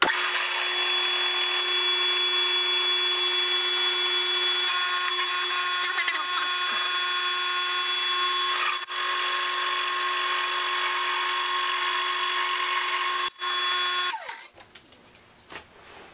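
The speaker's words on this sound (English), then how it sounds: "This drill press doesn't go that slow, so I'm going to make it go as slow as it will go" A drill press runs at its slowest speed while drilling a hole, giving a steady, continuous motor whine with a faint grinding texture for about fourteen seconds before spinning down into quiet handling noises.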